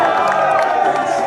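A crowd at a political rally cheering and shouting together in a dense, loud roar that runs the whole time, with no pause.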